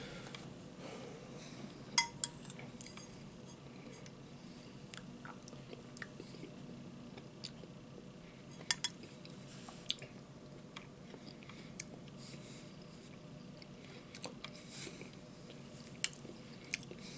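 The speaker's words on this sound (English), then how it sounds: "watch me chow down on my Hungarian goulash" Close, intimate chewing and biting of Hungarian goulash made in a pressure cooker, with soft wet mastication throughout and occasional sharp clinks of cutlery against a dish.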